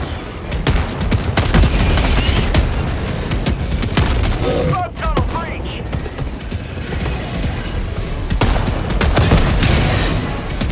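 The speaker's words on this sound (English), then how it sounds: "Big old bomb went off." Loud explosions and heavy gunfire in the shooter Helldivers 2 during a bug breach, booming blasts mixed with rapid shots, dense and sustained, with voices talking over the battle.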